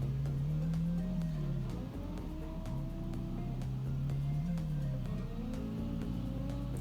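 Chevrolet Chevette engine pulling hard in third gear at steady high revs, loud and continuous, with the pitch rising and dipping slightly.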